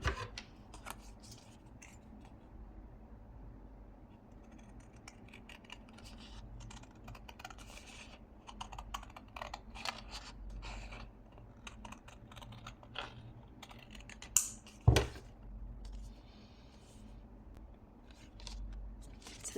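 Scissors snip through card stock in a steady run of crisp, close cuts with small rustles, ending in one sharp louder snap near the end; no talking.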